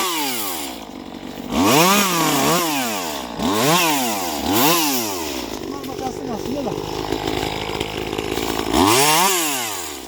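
A chainsaw cutting hazelnut branches during orchard pruning, the engine revving up and down in repeated loud swells with idling between cuts, while people talk nearby.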